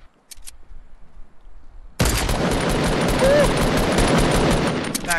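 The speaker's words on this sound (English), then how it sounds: "Other team is shooting at him." Sustained rapid gunfire in the battle royale game Fortnite erupts after a quiet opening and then continues loud and dense to the end, with faint speech at the start.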